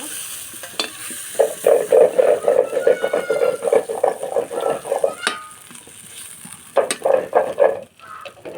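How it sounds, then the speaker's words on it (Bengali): Oil sizzles and crackles steadily as prawns fry in a pan, with bursts of spatter and occasional scraping of a utensil, close and fairly loud. "দেখুন মাছ ভাজা"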